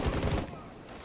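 Gunfire in the video game Rainbow Six Siege, a quick rattling burst of rapid shots that fades into a softer echoing tail, heard at moderate distance.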